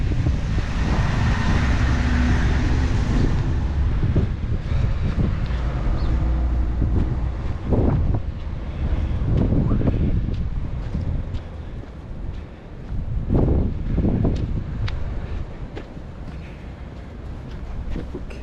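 Gusty wind buffets the microphone outdoors in Bar Harbor, Maine, by Frenchman Bay in late March, a steady loud roar with low rumbling bursts that swell and ease, no talking.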